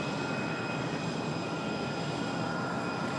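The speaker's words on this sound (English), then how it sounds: "FedEx should start their taxi now for a 5 left departure" A FedEx jet taxis for departure on runway 5 left at Raleigh-Durham International, a steady distant engine whine and rumble holding at an even level, with no speech.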